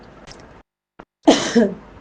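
A short, harsh cough or sneeze-like burst bursts out close to the microphone after a brief silence, followed by a second rougher expulsion.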